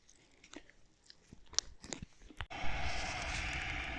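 Close, sharp crunching bites on dry soybeans in quick succession during a harvest, followed by a steady loud rush of broadband noise.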